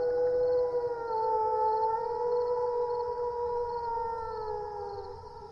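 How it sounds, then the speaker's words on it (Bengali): A jackal howls at night, one long, wavering, drawn-out wail that holds steadily for several seconds, moderately quiet and alone against a still background. "একটা আধটা শেয়ালের হুক্কা হওয়ার ডাক শোনা যাচ্ছে"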